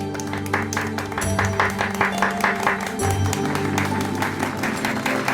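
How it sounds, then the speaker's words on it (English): A small group claps in response to a call to save Tinkerbell in a Peter Pan audiobook, steady patters of hands over a bed of music, loud and close throughout. "If you believe, clap your hands, now!"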